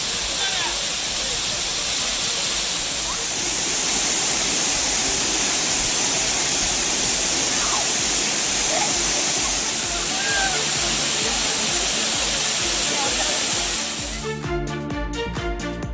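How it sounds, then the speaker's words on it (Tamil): Water cascading from a 40-foot rock at Megamalai falls makes a loud, continuous, full-bodied roar that stays steady throughout, with a brief sputtering break at the very end. "மேகமலை அருவியில் 40 அடி உயர பாறையிலிருந்து தண்ணீர் ஆர்ப்பரித்தது"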